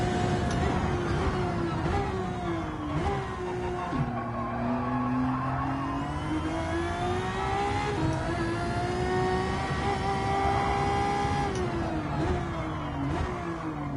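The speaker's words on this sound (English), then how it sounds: "Tiny bit of wheel spin. You could just about hear the wheels slipping there" A GR1 race car in Gran Turismo 7 at Daytona, engine revving up through gears with the tyres briefly slipping into wheelspin, steady and loud with no voices.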